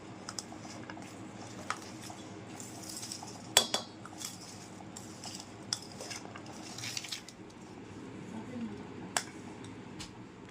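A spoon clinks and scrapes against a bowl while makha snack is mixed with jaljeera, light irregular taps and stirring under a quiet room.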